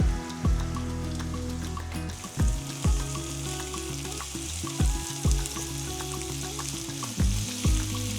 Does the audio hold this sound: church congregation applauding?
no